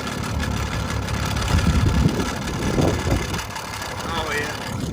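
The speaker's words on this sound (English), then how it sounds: "Back into neutral, I'll sit it idle for a minute. There we go. Now it's idling." A two-stroke outboard motor idles in neutral in the rain, a steady mid-pitched engine drone running throughout at moderate loudness, with some background noise over it.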